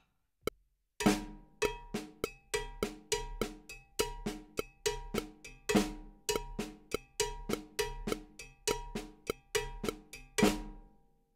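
Cowbell cascara pattern in the Mozambique style, opening with a flam on the first note, then a steady run of bright, ringing metallic strikes played alone at an even rhythm for about ten seconds.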